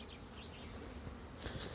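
Honey bees hum softly around hives set out in rows at a Northumberland apiary, a faint, continuous buzzing drone with no voices over it.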